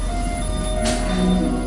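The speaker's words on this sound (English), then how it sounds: "like the last one did as the other train goes by" REM light metro set 61 passing on a shared track near McGill Station, a steady rumble of rolling stock topped by a drawn-out wheel squeal that swells near the end, with no voices.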